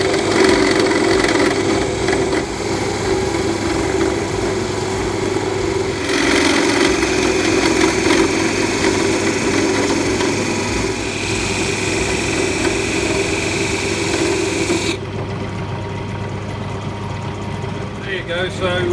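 A power tool cuts grooves into a wooden Christmas tree with a loud, steady, whining drone. It runs without a break and then drops to a quieter hum near the end.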